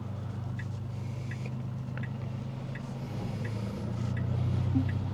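A Tesla parking itself under Enhanced Autopilot, heard from inside the cabin as a steady low hum that swells slightly toward the end, with faint periodic ticks over it.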